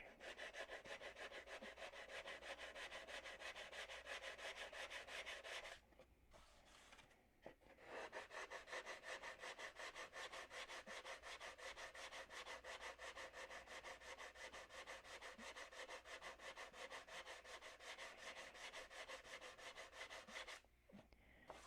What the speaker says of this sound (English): when I'm sanding these, I'm listening for the sound change